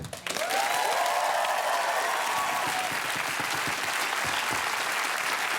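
Studio audience applauding at the close of a Gruen Planet panel show, a full, steady wash of clapping that swells in quickly and holds loud for several seconds.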